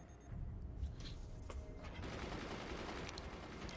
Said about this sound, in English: Already a pair of gunners takes mortars out of the sky